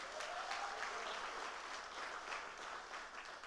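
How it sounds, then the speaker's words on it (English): A crowd gives a round of applause for the new Minister of Agriculture and his team, steady, even clapping from many hands heard at a moderate distance for a few seconds. "Give them a round of applause."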